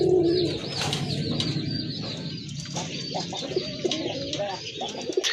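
Desi golla pigeons cooing at a pigeon sale, soft repeated throaty coos and some chirps continuing throughout, fairly close and unaccompanied by talk.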